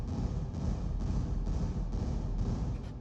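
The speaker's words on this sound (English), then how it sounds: "I have this reverb, which is completely wet. And it's got a pretty short decay time" A techno kick drum runs through a fully wet reverb with a short decay, giving a steady four-on-the-floor thump of dense low booms, each blurred into a brief wash, loud and alone.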